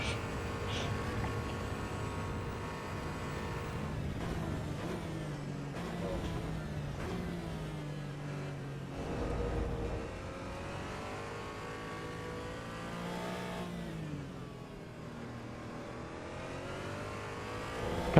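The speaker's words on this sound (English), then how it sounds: "This car is so quiet compared to the GT3s." A race car engine laps the Nordschleife in the video game Assetto Corsa EVO, its pitch rising and falling through repeated gear changes, a fairly quiet steady drone with revving surges.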